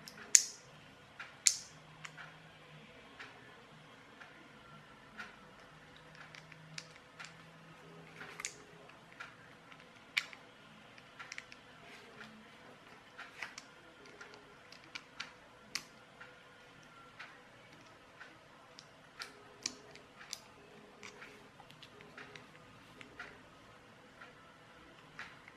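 Ratchet mechanism of a wind-up toy car being taken apart, giving faint scattered ticks and small clicks at irregular intervals over a quiet background, with a few sharper snaps near the start.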